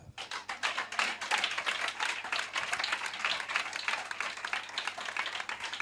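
A church congregation claps steadily and rapidly, a dense, fairly distant applause that carries on without pause.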